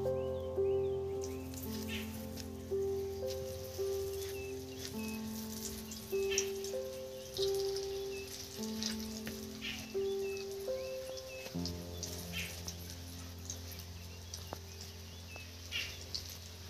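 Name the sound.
lentil cakes (dhoka) sizzling as they fry in hot oil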